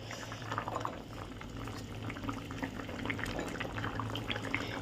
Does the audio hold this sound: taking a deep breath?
no